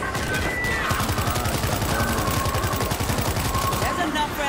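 Rapid automatic gunfire rattles continuously in the World War Z zombie shooter, a dense rhythmic burst of shots up close, with game characters shouting over it.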